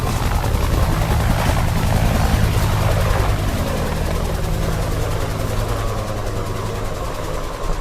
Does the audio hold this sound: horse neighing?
no